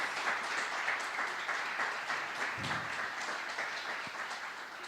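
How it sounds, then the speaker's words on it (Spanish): A church congregation applauding a first-time visitor, a steady, moderately distant wash of many hands clapping that continues evenly without pause. "Le damos un fuerte aplauso a José"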